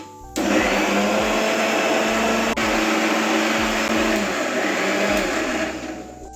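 A kitchen mixer grinder grinds masala powder with tamarind and coconut, starting abruptly with a loud, steady high-pitched whirring drone that holds for about six seconds with a brief dip midway, then winds down.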